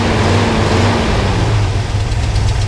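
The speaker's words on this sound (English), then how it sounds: "Go ahead and rev it up a little bit." Nearby engine of a 1979 International Harvester Scout II 4x4 revving briefly, its rumble rising and then falling back toward a steady idle.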